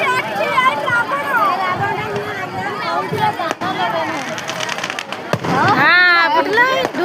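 Firecrackers bursting inside a burning Ravana effigy at a village festival, a scattered run of sharp pops and crackles under loud crowd chatter and shouting voices.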